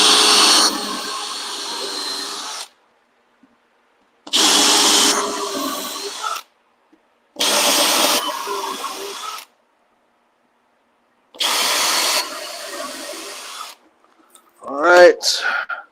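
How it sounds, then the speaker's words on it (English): A power drill countersinks and pilot-drills holes in the wood of a subwoofer box, running in four loud whirring bursts of about two seconds each with pauses between them. "countersink, pilot drill some holes in here."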